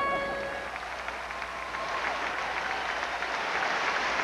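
A Canadian audience applauds and cheers at the 1988 World Figure Skating Championships, a dense, steady wash of clapping from a large arena crowd, with a voice speaking faintly underneath.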